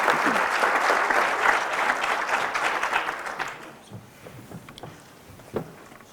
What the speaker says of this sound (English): So let's give them a loud round of applause